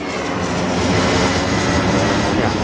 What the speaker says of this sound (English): That was definitely a turbine airplane.